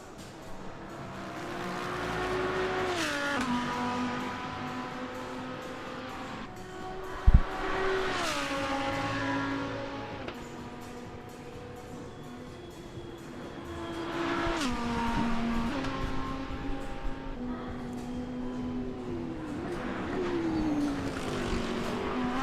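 Race cars in a sim racing game, among them an Acura NSX, roar past as engines rise and fall through gear changes and a sharp bump, with a sustained loud whine and no commentary over it.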